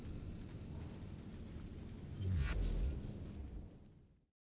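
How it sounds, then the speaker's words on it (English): An explosion in Assassin's Creed Syndicate, a Piece of Eden detonating and destroying a lab, booms as a loud low rumble with a rushing burst midway, then fades out over a few seconds with no speech. "What was that explosion?"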